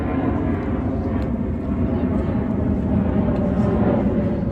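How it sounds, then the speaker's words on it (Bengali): An airplane passes overhead near an airport, its broad, steady roar loud and continuous throughout with no pauses. "তো রোজকারের মতো প্লেন তো যাবেই।"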